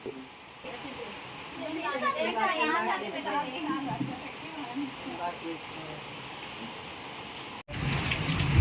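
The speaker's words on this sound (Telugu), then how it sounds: "బయట చూడండి ఫుల్ వాన" Steady rain pours outside, with children's voices and chatter rising over the downpour before the sound cuts abruptly near the end.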